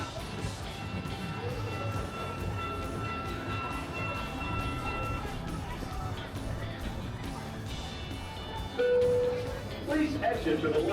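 An amusement park boardwalk train rolls past rides and waterfront shops with a steady low rumble and faint rail clatter, and a voice talks over it.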